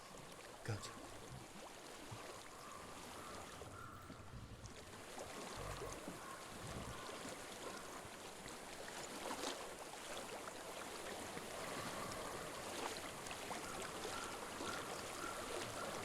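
Water flows steadily in Hellblade: Senua's Sacrifice, a continuous soft broadband rush that builds slightly over time, heard faintly against a quiet background.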